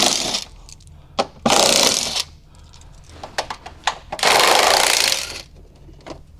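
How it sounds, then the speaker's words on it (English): A power tool fitted with a 10 mm socket whirs in loud bursts of about a second while loosening fasteners on a car's fender liner, separated by quieter clicks and handling noises. "I need a 10 mil socket to get this fender liner out of here."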